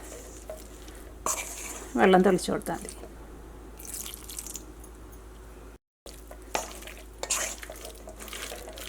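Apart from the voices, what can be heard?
stirring chicken in cornflour and maida batter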